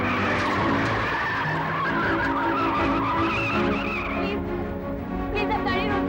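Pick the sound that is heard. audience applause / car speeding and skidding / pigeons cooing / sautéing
car speeding and skidding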